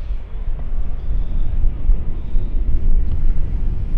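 A jet airliner comes in to land on a runway at Schiphol Airport, giving a steady, loud low rumble with wind buffeting the microphone and no voices.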